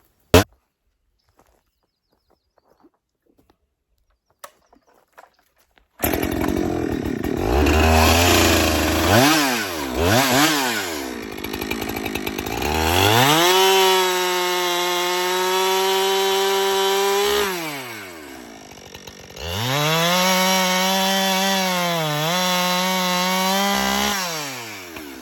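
A chainsaw fitted with a chisel chain on the same bar cuts into wood, rising from a few faint clicks into a loud close whine that bogs and revs through two long cuts with a brief pause between.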